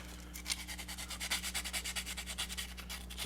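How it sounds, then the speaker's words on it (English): Sandpaper rubs back and forth on a Corvette electrical grounding point and nut, a quiet, rhythmic series of about twenty quick scratchy strokes over a low steady hum. "once you have them sanded off a little bit"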